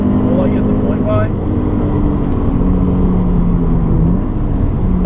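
A Scion FR-S with TRD accessories and an aftermarket exhaust runs at full throttle on a track, a steady droning engine note heard from inside the car.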